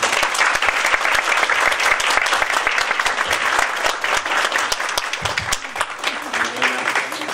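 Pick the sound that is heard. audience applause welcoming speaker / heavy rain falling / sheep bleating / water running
audience applause welcoming speaker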